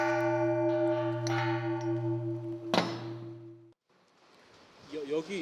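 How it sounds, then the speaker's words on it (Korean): A Korean Buddhist temple bell, a cast bronze bell being tested by its maker, is struck once and hums with a long, loud resonance before an abrupt cutoff, followed by a hit and faint talk. "우리나라 종은 꽝 하는 소리 외에 이제 주위에 나오는 소리를 잡는 건데"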